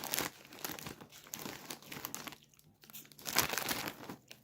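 A plastic bag of snack gifts rustles and crinkles up close as the snacks are put back inside. The handling runs in continuous soft bursts with a brief lull midway, and no one speaks.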